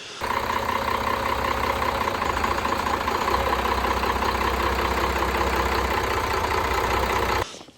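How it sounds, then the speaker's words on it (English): A Mitchell 31 MKII boat engine idles with a steady, continuous low rumbling chug, holding an even loudness throughout before cutting off abruptly at the end. "I'll cut in some footage of the engine running in just a second"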